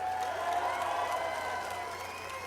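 Crowd applause at a political rally in Manchester, New Hampshire, a faint, steady spread of clapping with some cheering mixed in, heard from a distance across a large room.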